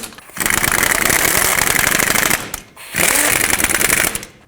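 Ford F-250 wheel hub bearing mounting nuts driven tight with a loud power tool, two long rattling bursts with a brief pause between, close and alone.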